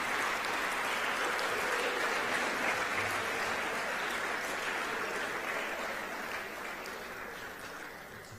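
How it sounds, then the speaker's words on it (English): An audience at an athletic awards banquet applauds the parents, sustained clapping from a room full of people that slowly fades toward the end. "Gentlemen, give your parents a round of applause, even if they're not here."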